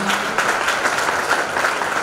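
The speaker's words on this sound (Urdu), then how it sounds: "تالیاں بجا کر یہ بچے کی حوصلہ افزائی کیجیے" An audience claps steadily for a child who won first prize at a religious gathering and prize-giving ceremony, with loud, dense applause and no talking over it.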